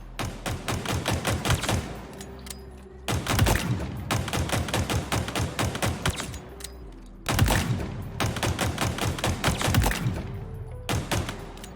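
Rapid semi-automatic fire from a sidearm in Halo Infinite's weapon academy, loud close bursts of evenly spaced sharp shots in several strings with brief pauses between them.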